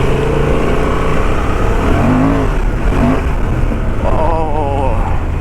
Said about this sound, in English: let's give it a try, a power uphill with the second gear